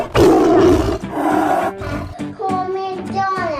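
A tiger roars loudly and up close, a long rough bellow followed by shorter growling calls, with a voice faintly mixed in.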